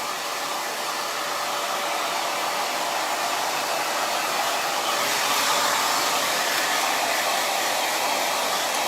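Hair dryer blowing on curly type 3 hair roots, a steady loud airy whoosh with a constant motor hum running alone throughout.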